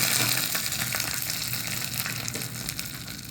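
Onion chutney sizzles in hot oil as the tempering is poured in, a steady bright crackle and hiss close by with small popping bursts throughout and no voices.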